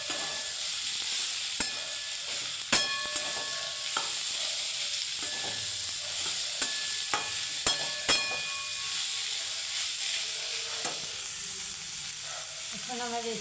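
Greens and fried eggplant are stirred in a hot pan, a steady sizzling hiss broken by sharp scraping clicks of a spatula against the metal at irregular intervals.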